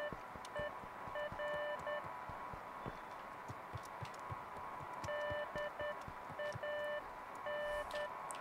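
Repeated electronic beeps in the video game Beacon Pines, short evenly spaced tones sounding in clusters with pauses between them, steady and moderately loud over a soft background bed.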